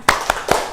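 A school class in an Indonesian lesson does the tepuk semangat routine: three sharp, loud claps in quick, even succession, close by.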